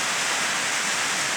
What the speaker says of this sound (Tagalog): Grabe ang ulan makalipad. Malakas.